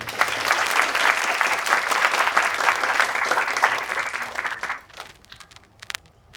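An audience at a stand-up comedy show claps in dense, sustained applause for about five seconds, then the clapping quickly thins to a few scattered claps and fades.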